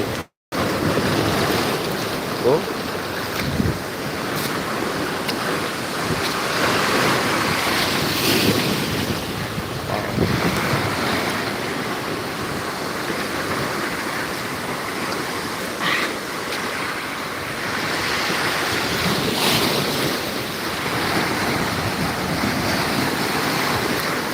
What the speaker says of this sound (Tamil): அலை வருது அலை வருது அலை வருது